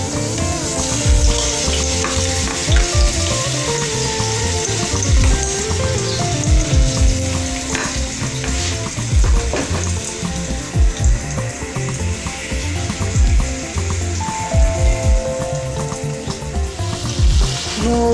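Rabbit pieces frying in hot olive oil for a Brazzaville-style rabbit stew, a loud continuous sizzle with crackles and occasional stirring or turning knocks, no speech.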